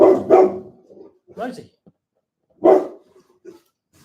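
Dog barking: a few loud, close barks come in separate bursts with pauses between them, plus some smaller yips.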